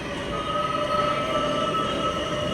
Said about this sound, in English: Another F train.